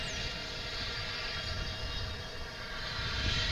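An Embraer 145 regional jet arriving at DFW Airport, a steady distant engine drone with a low rumble and faint high whine, continuous and unbroken for a few seconds.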